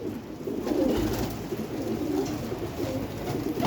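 Pigeons kept by a pigeon fancier coo in soft, repeated throaty calls close by over a low background murmur.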